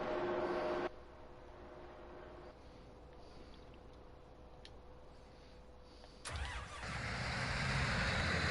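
A truck engine in Farming Simulator 2019 cranks and catches with a sudden loud burst after a stretch of quiet background. It then settles into a steady, close, full-bodied running rumble.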